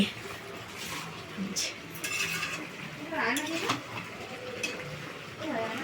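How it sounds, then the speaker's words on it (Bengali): Chicken being sautéed and stirred in a pan, with clanking of a spoon against the pot and soft sizzling, while people talk nearby over the cooking. "দেখো চিকেন কষানো হচ্ছে"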